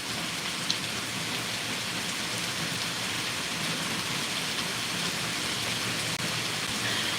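Steady rain falls as a dense, even hiss with a few faint drop taps, continuous and loud, with no voices.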